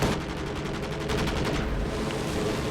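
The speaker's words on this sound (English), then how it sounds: "So yeah, I'm gonna call down my strafing run here" Strafing run in Company of Heroes 2 during a WWII battle against a Panzer IV: a rapid rattling volley of aircraft gunfire with dense repeated shots, then a heavier rumbling impact, loud with no talk.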